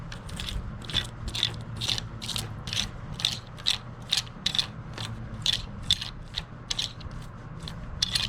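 A hand ratchet loosens a nut on a 2012 BMW S1000RR sport motorcycle, ticking in rapid, steady clicking bursts close by for several seconds, over a low background hum.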